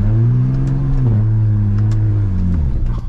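A BMW E92 335i with a swapped DCT gearbox revving hard, engine pitch climbing then dropping sharply at quick gear shifts, loud and close from inside the car.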